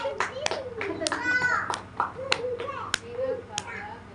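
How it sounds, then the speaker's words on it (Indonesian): Scattered clapping by a small group at a hypnosis training session, a few sharp uneven claps spread across a few seconds, mixed with voices talking nearby. "Oke, tepuk tangan buat Nela."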